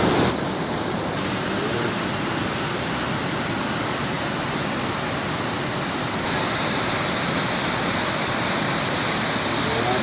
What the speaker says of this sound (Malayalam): അടിപൊളി വാട്ടർഫാൾസാണ് സൂപ്പറായിട്ട്